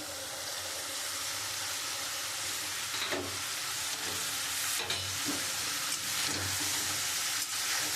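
Pieces of rohu fish fry in a mustard sauce, giving a steady close sizzle and hiss with occasional stirring knocks in the pan. No one speaks over it.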